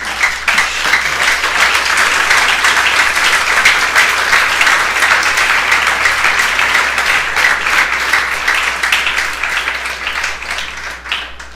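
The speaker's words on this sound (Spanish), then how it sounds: "Dar un aplauso al Señor." A church congregation applauds, loud and dense clapping sustained evenly for over ten seconds without pause, with no talk over it.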